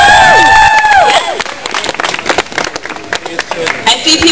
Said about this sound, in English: Let's give them a round of applause for that.